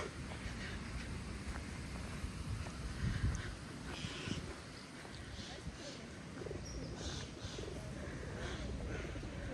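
Soft, low cooing from a flock of pigeons being fed close by in a park, mixed with rustling, wing flutters and outdoor wind noise.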